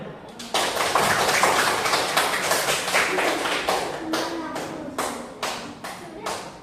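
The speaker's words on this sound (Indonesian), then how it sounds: "Tepuk tangan." A classroom of vocational school students claps together, starting as a dense burst of applause that thins into slower, scattered individual claps.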